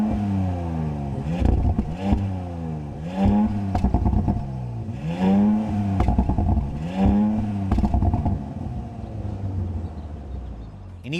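A 2025 Audi S5 Prestige sport sedan engine fires up and is blipped repeatedly, each rev rising and falling in a regular series of loud, close throttle pulls with exhaust burble between them.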